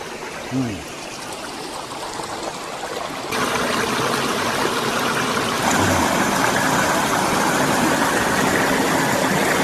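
A clear, rocky river beside a forest rushes in a steady watery wash that grows louder partway through, with a faint low engine-like rumble underneath.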